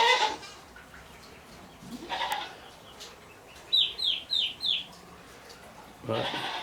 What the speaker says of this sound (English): Apologize for the goat noise.